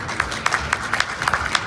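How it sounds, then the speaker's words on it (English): Scattered, sparse clapping from a county fair crowd at a Not-So-Newlywed Game show, a handful of distinct claps spread across a short moment, fairly near. "let's give them a big round of applause"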